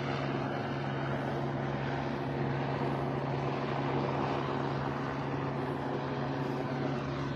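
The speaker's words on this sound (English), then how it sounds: "Helicopter." A police helicopter flying overhead during a foot search gives off a steady, loud rotor and engine drone with a constant hum and no break throughout.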